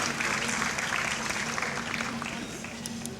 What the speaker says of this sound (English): A big round of applause to a very wonderful speaker this evening.